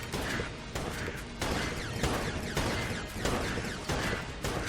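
A boss missile barrage in the bullet-hell roguelite Enter the Gungeon, a dense, steady wash of rapid blasts and impacts with regular louder bursts about every second, loud and continuous throughout.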